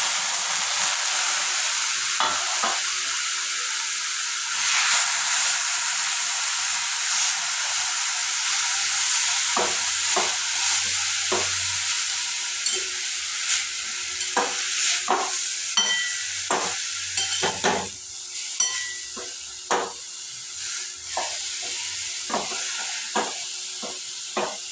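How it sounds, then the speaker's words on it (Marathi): Grated carrot cooks in ghee for halwa, giving a steady close sizzle and hiss with repeated scraping strokes of a spoon stirring the pan, growing more frequent toward the end, with no talking. "पाच ते 10 मिनिटं हे तूप आणि गाजर आपल्याला छान शिजू द्यायचंय"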